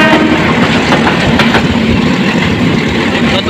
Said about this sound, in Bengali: সামনের দিক থেকে আরো একটি ট্রেন আসছে